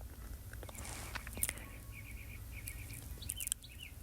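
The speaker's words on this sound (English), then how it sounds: "You hear the birds?" Faint bird chirps and short tweets sound in the distance over a low steady background rumble, with a few sharper clicks nearby.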